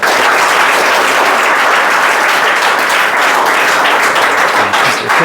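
A roomful of schoolchildren applauding a classmate at a weekly prize giving, dense continuous clapping, loud and close, filling the whole moment without pause.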